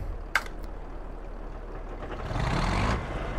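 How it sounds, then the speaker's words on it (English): A John Deere 5020 tractor in the video game Farming Simulator 22 gives a steady, close engine rumble that swells slightly toward the end, with a brief sharp click near the start and no talking. "So we're in our tractor,"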